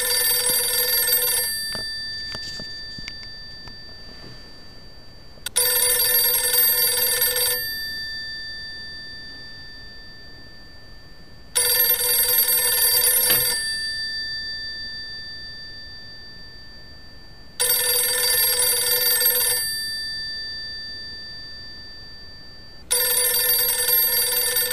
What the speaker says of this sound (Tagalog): Nakapagtataka ito dahil kung makikita ay walang saksakan ang phone. So paano ito nagre-ring ng kusa?